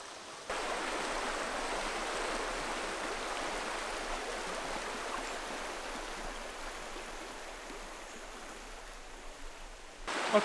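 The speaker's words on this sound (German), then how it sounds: "Ich kann das Wasser schon plätschern hören," Water babbling and splashing steadily in a river stream in the Taubergießen Rhine floodplain, a continuous close rushing wash that fades slightly toward the end, with no voices.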